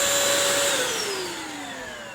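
A Bissell wet dry vacuum cleaner runs with a loud, steady motor whine and airy rush, its pitch gliding slowly downward as it winds down, heard close with no speech.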